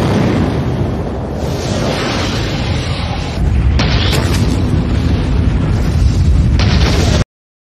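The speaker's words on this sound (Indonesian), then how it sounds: "sedangkan Ryoko dan vampir yang lain meledakkan diri supaya terbebas dari Miyabi" A dense, loud roar of explosions fills a scene from the 2016 film Higanjima 2 as vampires blow themselves up, a sustained rumbling blast with a brief surge midway, then an abrupt cut to silence.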